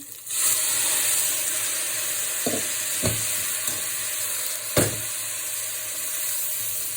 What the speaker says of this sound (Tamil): இப்போ இந்த ப்ரோக்கலியை போடுறேன்.